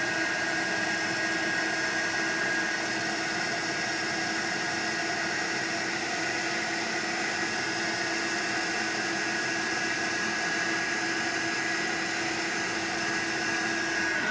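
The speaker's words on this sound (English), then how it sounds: "I'm just moving my heat gun over the image." A heat gun melting embossing powder on a stamped flower image blows a loud, constant, steady whoosh with a whining motor hum, unbroken throughout.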